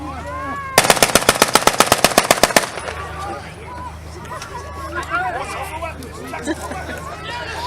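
A turret machine gun on a tank fires a long rapid burst of loud, closely spaced shots at a wartime reenactment, followed by crowd murmur and scattered talk from spectators.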